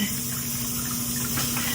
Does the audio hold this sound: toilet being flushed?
yes